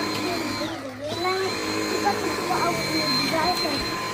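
Dyson DC78 vacuum cleaner running over a dirty carpet, a steady loud motor whine with airflow hiss that shifts slightly in pitch as it moves, close and continuous, with a voice talking over it.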